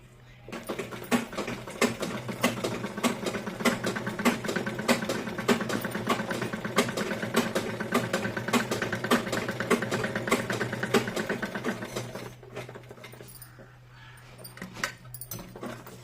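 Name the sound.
sewing machine stitching pleats on palazzo fabric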